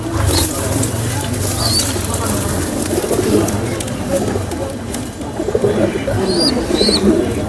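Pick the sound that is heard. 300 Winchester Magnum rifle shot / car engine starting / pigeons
pigeons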